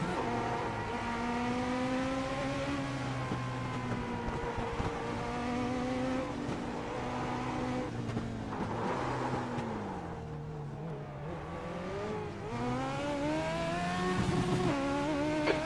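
A race car in a racing video game drives steadily around a track. The engine drone keeps shifting pitch as it accelerates and eases off, with a brief dip partway through. It is loud and constant, with no talking over it.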